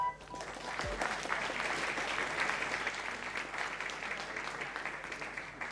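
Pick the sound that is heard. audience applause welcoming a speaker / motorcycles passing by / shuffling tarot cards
audience applause welcoming a speaker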